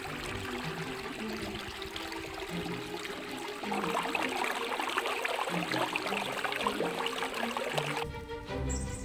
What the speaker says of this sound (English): Crystal clear water runs under giant granite boulders that have lain here for thousands and thousands of years.